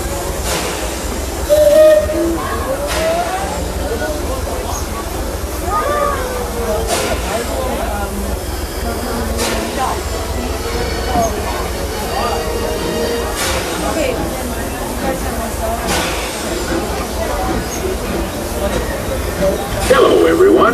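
Disneyland Railroad steam train in motion, a steady rumbling roll with rhythmic clickety-clack of wheels over rail joints, heard from on board; a voice speaks over the running train.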